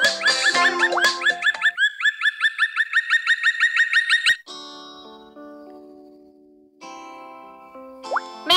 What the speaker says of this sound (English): Woodpecker. Bird. Forest. Bird. Woodpecker.